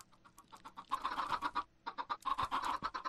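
Chickens in the Minecraft video game clucking in repeated short bursts, fairly close and loud, with a busy game soundscape behind them and no speech.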